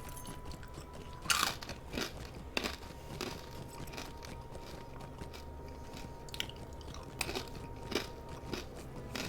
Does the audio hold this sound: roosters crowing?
no